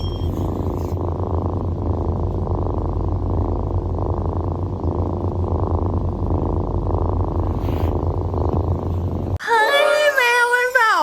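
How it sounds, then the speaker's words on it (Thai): A cat purrs close up in a low, rhythmic rumble that pulses steadily for several seconds, then a brief higher vocal sound cuts in near the end. "แมวเขาจะมีเสียงหายใจที่เหมือนเครื่องจักรเวลาเขารู้สึกอบอุ่นแ ละรู้สึกว่าเขาปลอดภัยเขาจะมีเสียงนี้ขึ้นมาเขาเรียกว่าเสียง purring"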